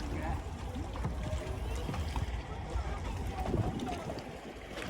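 Strong wind blowing outdoors by the sea, gusting and buffeting the microphone in a steady rough roar, with low boat-like rumbles and faint voices beneath.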